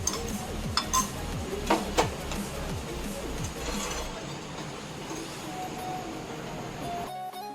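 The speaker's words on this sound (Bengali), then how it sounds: "কাস্টার্ড পাউডার এখানে গুঁড়ো আস্তে আস্তে এখানে দিয়ে মিশ্রণটা নাড়াচাড়া করে ঘন করে নিচ্ছি" Custard powder mixture being stirred to thicken in a pan, a spoon scraping and clinking against the metal with a few sharper knocks early on, then a softer continuous stirring rustle.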